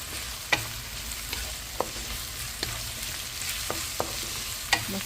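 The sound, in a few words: sautéing onions in a pan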